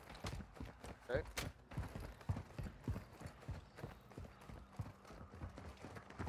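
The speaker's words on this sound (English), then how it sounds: "I just heard footsteps and I had my RG out." Footsteps run steadily across the ground in the DMZ mode of Call of Duty, with a continuous fast rhythm at moderate volume and faint background sounds.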